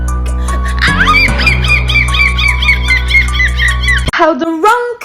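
A woman imitates seagull squawks with her voice, giving loud, bright cries in a sustained run of repeated calls and then a few sharper squawks near the end, with no other talk.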